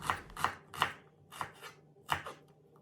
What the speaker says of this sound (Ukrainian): Почищену і помиту цибулю розрізаємо навпіл, а потім нарізаємо дрібненькими кубиками.